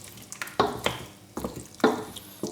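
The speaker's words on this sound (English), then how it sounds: "This is gonna kind of deglaze the pan" Stirring and scraping in a hot pan of lamb for a Moroccan tagine, with brief sizzling bursts as liquid hits the pan, close and moderately loud with no talk.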